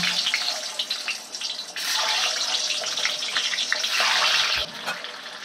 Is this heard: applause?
no